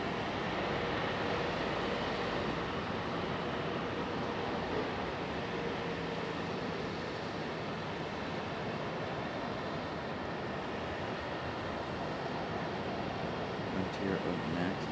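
A Frontier Airlines airliner arriving at Raleigh-Durham International Airport makes a continuous distant jet roar that holds at a steady, moderate level for the whole stretch.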